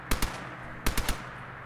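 Sharp MP40 gunshots in the video game ModBox go off in two quick bursts, first two close shots and then three after a short pause, loud against a quiet background.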